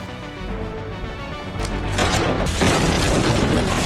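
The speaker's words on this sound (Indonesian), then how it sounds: "sang pembunuh tewas dalam ledakan" A deep rumbling mechanical noise swells into a loud, broad roaring blast that sustains for a couple of seconds before cutting off abruptly.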